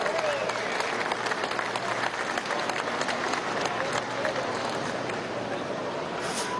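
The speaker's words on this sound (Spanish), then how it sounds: "un aplauso a Salazar, ¿vale?" An audience at a presidential event applauds steadily, a dense, fairly distant clapping from a large crowd, with faint voices in the background.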